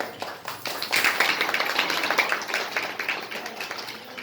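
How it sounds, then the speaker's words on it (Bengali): A group claps steadily at the opening ceremony of a National Nutrition Day event, a dense, fairly close patter of applause lasting several seconds. "হাততালি দাও"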